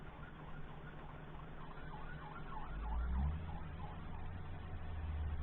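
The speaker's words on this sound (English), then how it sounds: "Must be a wreck above the house with all these sirens." Emergency vehicle sirens pass by outside a house, a wailing up-and-down tone heard from a distance through the walls, with a low engine rumble swelling as the vehicle goes by.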